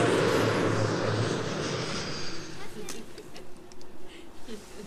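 An airplane roars loudly at first, a broad engine rush that fades over a couple of seconds, leaving quieter scattered background noises.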